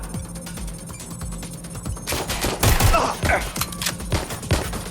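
Gunfire in the video game Watch Dogs: Legion: a rapid burst of sharp shots and thumps that swells loud after a quieter stretch, with voices calling out over the firing.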